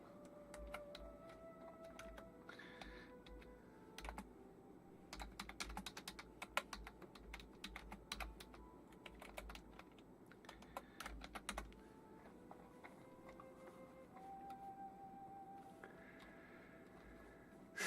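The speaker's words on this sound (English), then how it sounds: "I actually have a new keyboard." Someone types on a new computer keyboard at a gaming desk, with bursts of crisp close key clicks that pause and resume, quiet and without speech.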